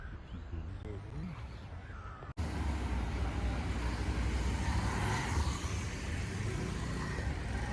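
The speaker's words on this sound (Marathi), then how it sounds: "गाड्या खूप चालतात" A steady roar of highway traffic on a hill road passes close by, continuous engine and tire noise following a short quieter stretch at the start.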